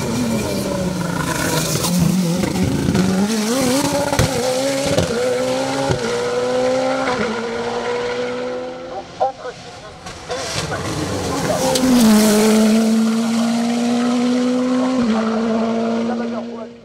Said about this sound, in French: Marc Pernot signe un 7e podium consécutif au volant de sa Nova Proto NP01 Turbo.